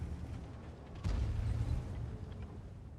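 Artillery shell explosion in World of Tanks, a sudden loud low boom about a second in that rolls into a sustained rumbling tail over steady background engine noise.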